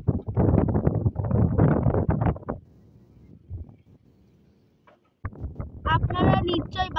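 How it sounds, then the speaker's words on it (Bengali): Wind blows beside a lake, gusting and rumbling against the microphone in loud bursts with quieter lulls, while someone speaks over parts of it. "আপনারা নিশ্চয়ই বাতাসের শব্দ শুনতে পাচ্ছেন।"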